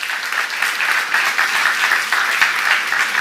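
Continuous applause from a church congregation during a seminar on Revelation, steady and fairly close, with no talking over it.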